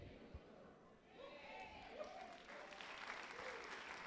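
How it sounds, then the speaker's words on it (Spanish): A church congregation applauds together in a steady wash of clapping, with a faint murmur of voices under it. "están dando un fuerte aplauso a Dios"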